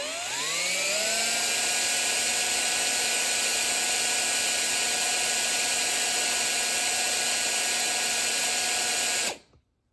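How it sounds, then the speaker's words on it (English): A power drill boring into a lightsaber hilt whines loudly and steadily, spinning up at the start and holding a high pitched tone for about nine seconds before cutting off abruptly; no talking. "I don't know if I can actually drill through this."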